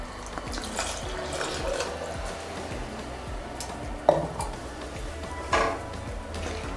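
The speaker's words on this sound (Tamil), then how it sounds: "2 மடங்கு தண்ணி சேர்த்துக்க போறேன் 2 அலக்கு தண்ணி" Water poured from a vessel onto rice in a Dutch oven while making paneer dum biryani, a steady close splashing wash with a couple of sharp clinks partway through.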